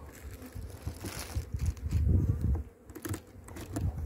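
Honey bees buzzing inside a small, weak hive with capped and uncapped honey, a faint, uneven hum close by with soft handling noises.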